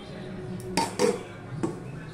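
A metal lid clanks onto a pot of fish head with potato and papaya curry, giving two or three sharp clinks close by against low background noise.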